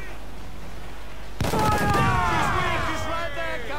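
Ship cannons open fire on a frigate in Assassin's Creed IV Black Flag: after quiet sea ambience, a sudden heavy volley booms in, followed by sustained rumbling and ringing debris, with game voices faintly underneath.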